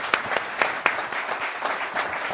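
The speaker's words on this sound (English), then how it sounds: "Let's do a last round of applause for all of our panelists." Brief applause for panelists at the close of a college-going policy panel: a smallish audience claps in distinct, fairly sparse strokes for a couple of seconds, moderately close and without talk.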